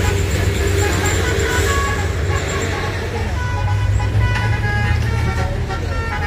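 A bus moves on a road among heavy traffic, with a loud, steady engine rumble and passing vehicles, and a horn toots briefly; voices are faintly heard under the noise.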